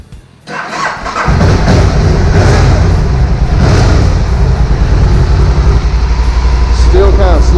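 A 2009-2014 Can-Am Spyder RS, fresh from a starter clutch bearing repair, cranks briefly and fires, then settles into a loud, steady running rumble close by.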